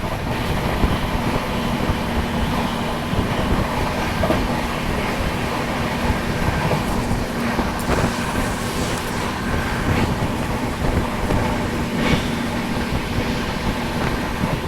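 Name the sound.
Vikramshila Express train overtaking Mumbai LTT Banaras Superfast Express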